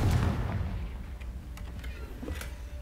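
The Confringo spell in Hogwarts Legacy sets off a booming explosion, a deep rumbling blast at the start that fades into a low crackling tail with a few faint pops.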